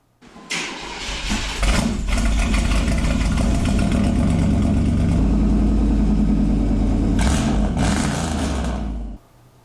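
A 292 Ford Y-block V8 cranks and fires, then settles into a loud, close, lumpy idle with a couple of blips before being shut off at the end.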